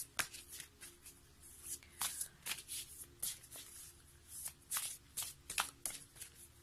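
Tarot cards are shuffled during a card reading, giving a run of quick, crisp riffling bursts and soft slaps in an uneven rhythm, close and fairly quiet, with no voice.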